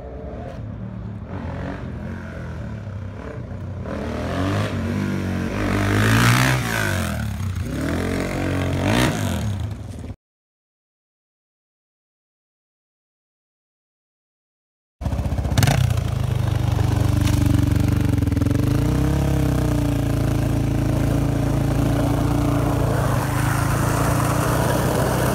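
Suzuki DRZ dirt bike being ridden, its engine droning loud and steady with rising revs and rough clatter, a brief silent gap splitting two stretches of riding.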